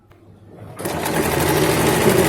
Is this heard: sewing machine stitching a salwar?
yes